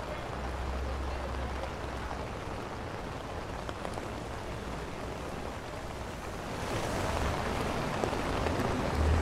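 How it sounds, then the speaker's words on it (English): Steady rain falls over Times Square in New York City, a dense even hiss of drops on the street that swells louder toward the end, with no talk. "So this is Times Square in the rain,"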